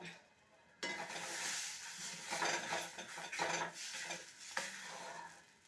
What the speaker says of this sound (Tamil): மாவை கொஞ்சம் கரண்டியால் கிண்டி விட்டோம்னா உருண்டை பிடிக்கிற அளவுக்கு கெட்டியாக மாறிடும்